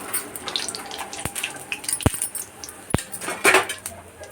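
Fried pakoras lifted out of a pan of hot oil with a metal utensil: three sharp, close clinks against the pan over a soft, steady hiss of frying, with no talking.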